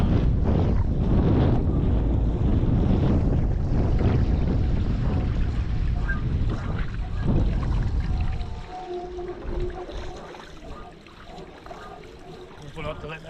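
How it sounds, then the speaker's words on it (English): Strong wind rushes and buffets the microphone while riding a 7'10" KT Dragonfly 2 surfboard into a headwind, with water washing around it; the roar is loud and steady for most of the stretch, then eases and thins toward the end. "Going into a headwind right now."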